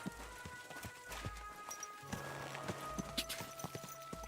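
Horse hooves clip-clopping in the medieval video game Kingdom Come: Deliverance II, a steady run of close, clear hoof strikes over a low game ambience, without speech.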